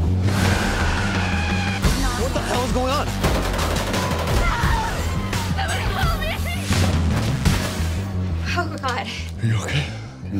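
Gunfire and explosive booms in a Bushwick action movie trailer, dense and loud, mixed with a dramatic score, vehicle noise and voices talking throughout.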